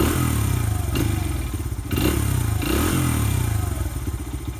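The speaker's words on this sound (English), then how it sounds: "if you really whack the throttle from idle, the bike can tend to stall out" A Honda XR100R dirt bike with a carburetor midrange bog runs steadily with a loud, rough engine drone, with a few clattering thumps as the throttle is snapped and the engine stumbles.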